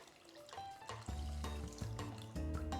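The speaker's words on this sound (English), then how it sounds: "I might add more water just to see." Water pours into a pan holding eggs, a steady close trickle and splash rising in level over about three seconds, with no talking.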